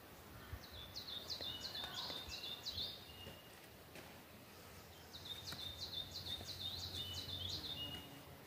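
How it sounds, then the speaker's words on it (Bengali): Birds chirp in a quiet mountain spot near Jibhi and Jalori, two bursts of quick repeated high chirps over a soft, calm background, fairly faint and unaccompanied by voices. "কোনো আওয়াজ নেই, শুধু পাখির কলকাকলি"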